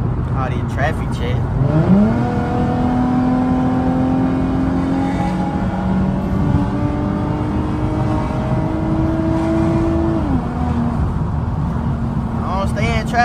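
An Infiniti G37 car revs and accelerates from inside the cabin, its engine note climbing steadily through a long pull before easing off, loud and close, with a voice speaking briefly over it at the start.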